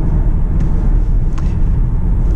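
A second-hand car accelerating in standard driving mode gives a steady, fairly loud low engine and road rumble. It stays constant throughout, with no sharp peaks and no clear voices.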